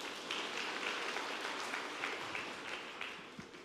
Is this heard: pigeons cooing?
no